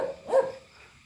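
A dog gives a single short bark outdoors at a rural garden farm, moderately close and clear, followed by quiet.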